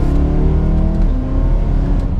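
A supercharged 625 bhp BMW E92 M3 with decat pipes revs hard and close, a loud, continuous engine roar with a slight dip and rise in pitch, heard alone.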